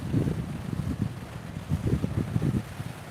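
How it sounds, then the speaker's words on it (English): Strong wind in Costa Teguise, Lanzarote buffets the microphone with continuous low rumbling gusts, rising and falling without pause and no voices. "This is really windy, it's making my eyes water."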